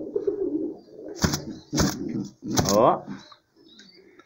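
Homing pigeons coo in a loft in Sarzedo, Minas Gerais, with low throaty calls and a few sharp knocks mixed in under someone talking nearby.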